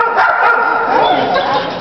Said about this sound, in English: Happy puppies. Happy puppies.